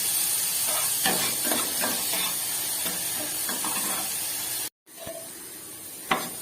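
Vegetables frying in a pan with a pinch of salt, a close steady hiss and sizzle with intermittent stirring scrapes, cut by a brief silent gap before the sizzle resumes with a sharp clatter.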